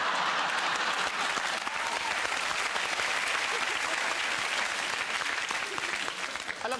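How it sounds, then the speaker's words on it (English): Studio audience applause at a television chat show, loud, dense and steady throughout, with a few cheers mixed in. "I love the daughter clapping"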